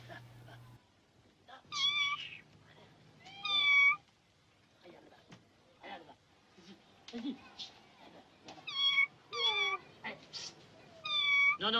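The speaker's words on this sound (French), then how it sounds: "vous lui faites peur à ce chat" A cat meows repeatedly, giving several clear, drawn-out cries spaced a second or two apart. People talk in between and over the calls, and a low hum sounds briefly at the start.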